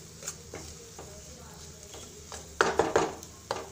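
Spoon stirring chili powder into hot oil in a metal pan while making garlic chili powder, a run of light scraping clinks that grows into several sharper knocks near the end.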